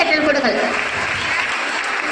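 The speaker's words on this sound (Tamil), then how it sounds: "நன்றியை சொல்லுங்கள் எல்லாரும் ஒரு பலத்த கை தட்டுங்கள்." Audience clapping in a hall, a dense continuous wash of applause at fairly close range.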